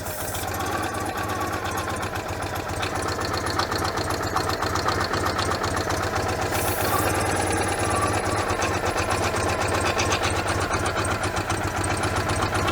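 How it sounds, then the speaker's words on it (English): Citroën 2CV engine running with an air leak, a steady close rattling putter that keeps a fast, even ticking rhythm throughout with no pauses. "We've got a considerable air leak somewhere going on."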